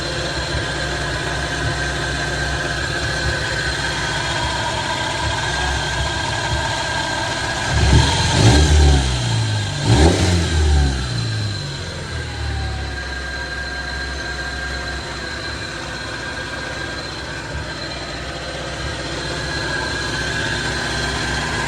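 Carbureted MK3 Volkswagen Jetta engine running steadily while driving, a constant close hum that swells with a brief rise in the middle before settling back.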